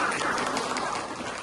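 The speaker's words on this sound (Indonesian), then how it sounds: "Kasih tepuk tangan dulu buat Nanda." A classroom of students applauding for a classmate named Nanda: a steady, even wash of many hands clapping together, brief and fairly loud throughout.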